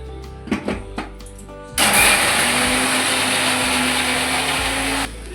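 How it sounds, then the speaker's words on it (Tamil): A mixer grinder whirs loudly and steadily for about three seconds as it grinds green chillies, curry leaves, salt and ginger garlic paste, following a few short clicks and knocks, then stops abruptly. "குறைன்னு அரைச்சாச்சு"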